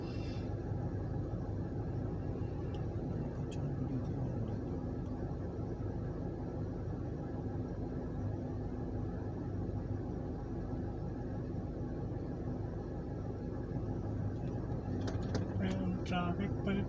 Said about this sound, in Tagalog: Traffic pala dito.